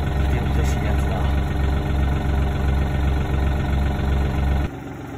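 Farm tractor engine at a rice farm after harvest, running close by with a loud, steady idling rumble and a regular throb, then dropping abruptly to a quieter level near the end.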